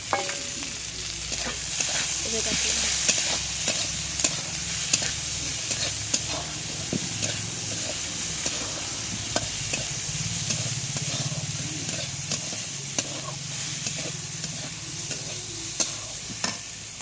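Sliced onions fry in oil in a kadai for a potol curry, a continuous close sizzle broken by repeated sharp clinks and scrapes of a spatula stirring against the pan.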